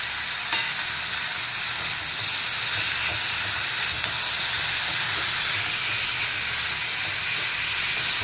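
Tomatoes, ginger, garlic and chilies hit fried onions in a pan while cooking masala chole, giving a loud, steady, close sizzle and hiss that carries on without a break.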